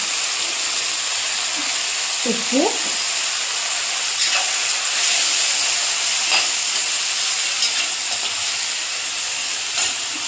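Cumin seeds frying in hot oil in a pan for an usirikaya (gooseberry) pickle, a loud steady hiss and sizzle held throughout, with a few faint scrapes and light clinks near the start.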